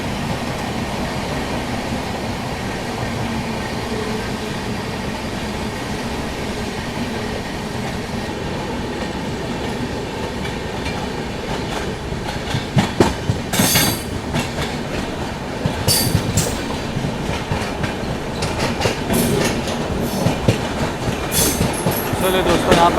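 Passenger express train 20802 from New Delhi to Islampur running at speed through Ghaziabad Junction, a continuous loud rolling roar with clattering wheel beats and sharp rail clacks growing denser later, heard from on board with faint voices under it.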